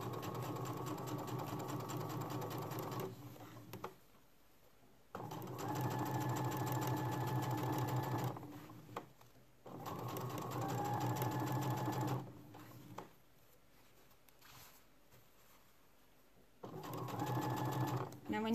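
A sewing machine stitches shorts and bias tape in repeated runs of several seconds each, separated by brief pauses, steady and fairly close.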